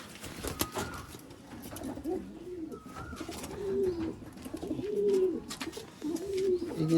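Tournament-winning champion pigeons in a home loft coo in repeated rolling, throaty phrases, steady and fairly close, with faint background noise and no talk.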